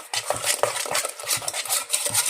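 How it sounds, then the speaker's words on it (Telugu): Cake batter is stirred briskly by hand in a bowl, with quick scraping and clinking strokes in an uneven rhythm, close and moderately loud, with no talking. "బాగా మిక్స్ చేయాలి."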